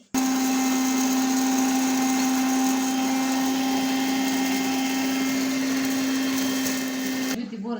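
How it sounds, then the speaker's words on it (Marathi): An electric mixer grinder grinding dried red chillies whirs loudly and steadily at high speed for several seconds, then cuts off abruptly. "त्या आता मी मिक्सरवर चांगल्या बारीक करून घेणार आहे"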